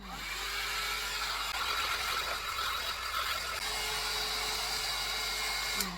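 A BaByliss rotating hot-air brush runs continuously, giving a steady, close airy whir and motor hum that holds level throughout without speech.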